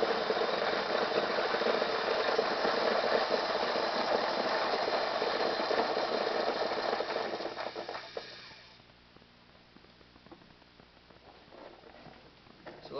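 A Spyder Fasta paintball loader whirs and rattles continuously as it feeds 230 paintballs, a steady mechanical ratcheting that thins out and quiets after about nine seconds as the hopper empties.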